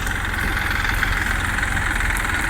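A tractor engine idles steadily while the tractor is loaded on a farm, a continuous close, loud low rumble with fast regular pulsing throughout.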